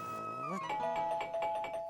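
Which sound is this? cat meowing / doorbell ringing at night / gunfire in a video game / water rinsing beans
doorbell ringing at night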